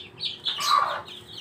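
A mother hen clucks once or twice up close, a short throaty call with a brief rise, standing alone against quiet background.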